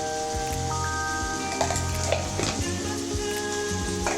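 Chicken sizzles loudly in a pan with chili powder and masala spices, a dense crackling fry with occasional stirring scrapes and no voices.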